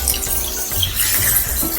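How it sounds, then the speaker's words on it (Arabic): Onion water and lemon juice are poured into a hot pan, a close, loud, splashing gush of liquid hitting the pan with a hiss, continuous and turbulent throughout. "هنزود بقى ميه البصل مع عصير الليمون"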